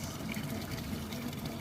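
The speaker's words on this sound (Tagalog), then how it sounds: "Maririnig mo lang ang lagaslas ng tulo ng gripo sa fountain." Water trickles steadily from a fountain tap on Munich's Marienplatz, a soft continuous splashing and gurgling heard fairly close in a quiet square.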